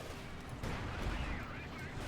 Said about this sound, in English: Sturmpanzer bombarding the anti-tank guns, slamming them down with the high explosion.